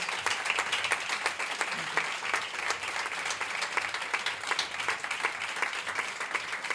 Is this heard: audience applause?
yes